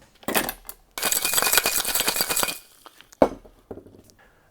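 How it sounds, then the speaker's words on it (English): Ice rattles hard inside a shaker as a cocktail is shaken, a dense clinking burst lasting a couple of seconds. Shorter clanks come before and after it. "And shake it up with ice."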